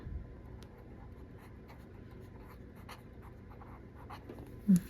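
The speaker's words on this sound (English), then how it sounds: "I'm just going to go ahead and write sticker" A pen scratches steadily across paper, writing out a word by hand in a quiet room, soft and close, ending in one brief louder knock near the end.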